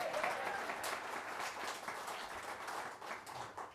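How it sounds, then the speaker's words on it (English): A church congregation applauds during a Sunday service, a steady wash of clapping that fills the hall with no voices over it. "So let's applaud for those first two groups."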